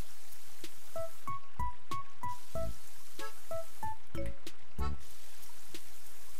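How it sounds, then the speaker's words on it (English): Plants being watered in the Animal Crossing: City Folk video game: a run of short, bright plinking chimes and soft splashy drips in quick uneven bursts, clean and close with no talking. "Just gonna water these"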